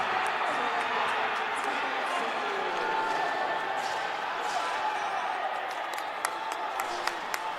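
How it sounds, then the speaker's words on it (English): Crowd roaring at a college men's basketball game between Monroe and Harcum after a one-handed dunk, a sustained loud cheer in a gym with a few sneaker squeaks and bounces near the end. "That gets the crowd to its feet."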